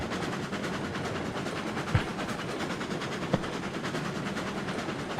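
Rumbling train noise from the video game Railroads Online, with a steady clatter of wheels on rails, accompanied by two brief sharp clicks, fairly loud and continuous.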